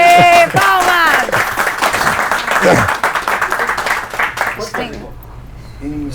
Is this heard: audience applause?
yes